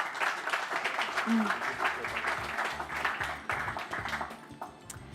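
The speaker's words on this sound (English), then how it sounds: "Please give them a round of applause." Audience applause for Australian rugby figures Reece Hodge, John Eales, Phil Kearns and Clem Halaholo at the morning launch of Australia's Rugby World Cup 2027 bid: a steady wash of clapping lasting about five seconds, with voices mixed in.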